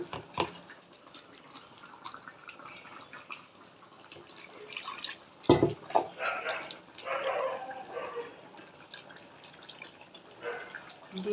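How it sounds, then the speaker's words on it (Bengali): Water being poured into a pan of catla fish curry: a light splashing trickle with brief drips and clinks, moderately close, over a quiet kitchen background. "দিয়ে দেবো জল"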